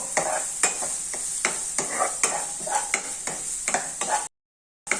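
Onions, ginger, garlic and curry leaves sauté over a medium gas flame, a bright steady sizzle broken by regular rhythmic stirring scrapes of a spoon in the pan, close, with a short silent gap near the end.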